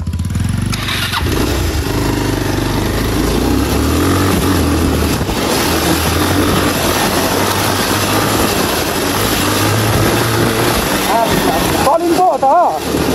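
A motorbike ride on a village road, the engine droning steadily and close for most of the stretch, with a voice talking over it.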